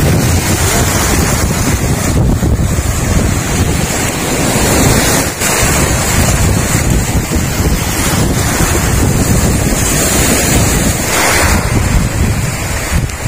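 Ocean waves breaking along a beach where coconuts wash ashore, a loud continuous surf roar with heavy wind buffeting the microphone and periodic swells.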